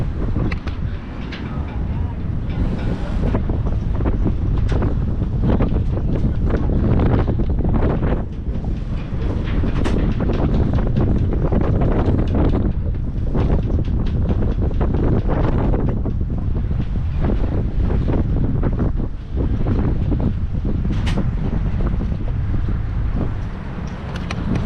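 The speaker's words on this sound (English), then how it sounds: "We've been getting wind gusts of around 35, 40" Strong, steady wind roars and gusts across a marina as boats are readied for Hurricane Ian, a constant loud buffeting on the microphone with rigging and boat noise underneath.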